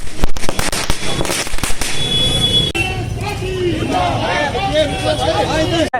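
Firecrackers and fireworks crackle and pop in rapid loud bursts as Congress party workers celebrate in Kichha, Uttarakhand, then give way to a chattering crowd and voices.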